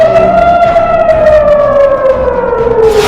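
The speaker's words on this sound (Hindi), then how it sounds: "जब आसमान में ईरान की मिसाइल नजर आती है तो इजराइल में सायरन बजने लगता है।" Air raid siren wailing in Israel during an Iranian missile attack, a loud steady tone slowly falling in pitch, with a faint noise burst at the end.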